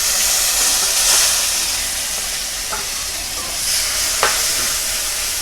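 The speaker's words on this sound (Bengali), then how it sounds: "এইবার এই মাছ ভাজার তেলের মধ্যেই আমি দিয়ে দিচ্ছি অল্প পরিমাণে কালো জিরা ফোড়নে, আর আমি যে পেঁয়াজ আর টমাটোমের পেস্টটা করে রেখেছিলাম সেটাকে দিয়ে দেবো" Steady sizzle of onion and tomato paste with nigella seeds in hot oil left from frying fish for mustard pabda, a continuous bright hiss with a couple of faint clinks, heard alone.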